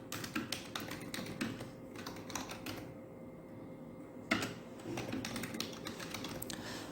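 Computer keyboard typing while entering a simple service request, with steady bursts of key taps that pause briefly in the middle before resuming, close and moderately quiet.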